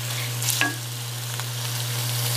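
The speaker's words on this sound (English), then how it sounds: "I'm just going to saute that real well." Beef chuck sautés in a pan with a steady, moderate sizzle and a constant low hum underneath, plus a brief scrape or clink early on, and no voices are heard.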